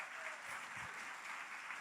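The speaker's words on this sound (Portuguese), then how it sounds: "Dá uma salva de palmas para Jesus." A church congregation applauds during an anniversary worship service, a steady wash of clapping that stays even and moderately distant throughout, with a faint low voice briefly underneath.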